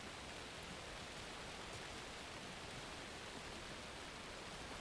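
Heavy rain falls steadily in the game Alan Wake 2, a dense, even hiss filling the whole stretch without pause or voices.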